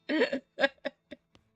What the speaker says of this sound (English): She coughs as if you should be doing something more important.